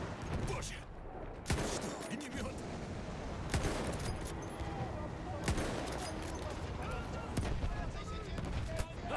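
Battlefield 1 video game gunfire, dense bursts and sharp shots fired continuously across the whole stretch, loud and busy, with someone talking over the battle.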